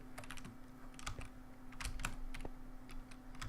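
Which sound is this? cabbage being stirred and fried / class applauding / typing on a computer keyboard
typing on a computer keyboard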